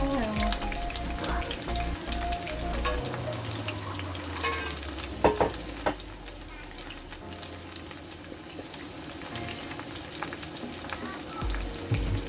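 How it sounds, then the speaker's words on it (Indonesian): Pieces of salted egg chicken fry in a wok of hot oil, a steady loud sizzle and crackle that runs throughout, with occasional clatter from stirring. "Nah, di sini aku goreng semua."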